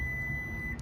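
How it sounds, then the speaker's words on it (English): A Ford F150 Lightning pickup gives a steady electronic warning tone as its tailgate closes, one sustained beep held over a low background hum, faint and close. "we'll close it up here. Makes that annoying beep"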